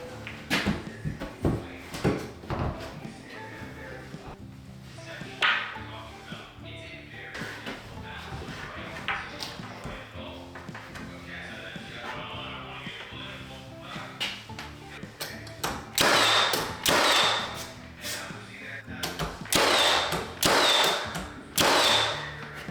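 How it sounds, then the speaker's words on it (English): A nail gun fires nails into window trim around a window jamb, with sharp snapping shots scattered through the clip and clustered in a louder rapid burst near the end, over faint background noise. "we're gonna shoot it with some nails"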